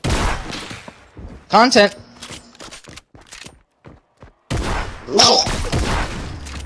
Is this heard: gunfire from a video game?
yes